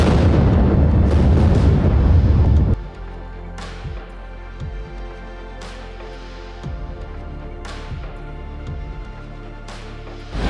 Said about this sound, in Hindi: हमारे सामने ही सुरंग को आगे बढ़ाने के लिए ब्लास्ट किया गया।